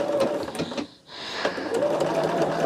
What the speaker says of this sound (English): So we are sewing this at that 3/8 inch